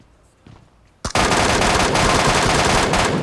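MK14 rifle fire in PUBG Mobile: after a quiet moment and a single click, a loud, rapid burst of shots rattles continuously for over two seconds, close and dense.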